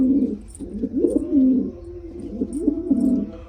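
Pigeons coo in soft, repeated throaty phrases, fairly close, with a faint bird chirp or two above them.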